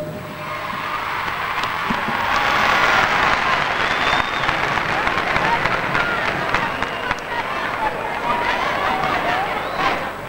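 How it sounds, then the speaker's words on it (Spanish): Carnival audience applauds children's murga groups, a broad sustained roar of clapping and crowd noise with scattered whistles and shouts, staying loud and steady across the stretch. "un gran aplauso para Triquitraquitos y Guachipandusi"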